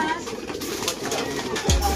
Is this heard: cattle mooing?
no